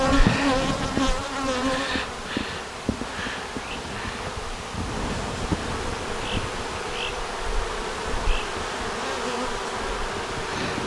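Honey bees buzz around a hive outdoors in a steady, close hum, with individual bees droning past now and then and light rustling beneath, and no one speaks.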